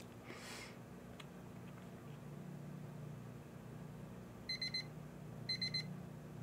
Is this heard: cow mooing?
no